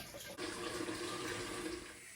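Tap water runs steadily from a sink as a turtle tank fills, a continuous close splashing rush that keeps going after a brief break near the start, with no voices.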